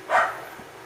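A dog in the background gives one short, sharp bark, a single quick burst trailing into quiet room tone.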